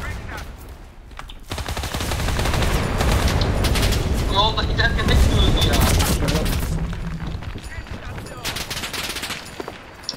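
A bomb explodes amid rattling gunfire in the Enlisted World War II shooter, loud booms and dense bursts of shots building over several seconds, with a voice speaking over the battle.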